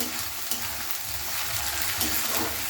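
Crushed green chili frying in a pan for a spicy chorchori is stirred in a steady, loud, close hiss of sizzling oil, with no talking.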